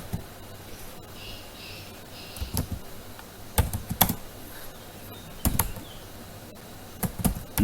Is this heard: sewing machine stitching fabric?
no